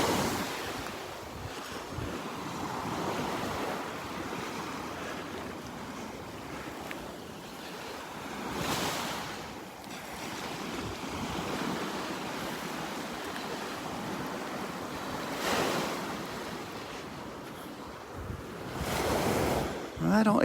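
Ocean surf and breezy wind at the north end of Delnor-Wiggins beach near Wiggins Pass, Florida: a steady wash of waves with wind buffeting the microphone, a few louder surges throughout, no talk.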